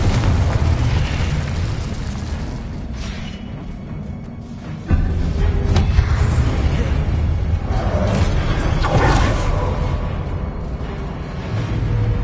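Confringo blasting spell explosions in Hogwarts Legacy erupt as loud, dense booms over a constant rumbling game soundscape, with a sharp burst near the middle and several more blasts following through the combat.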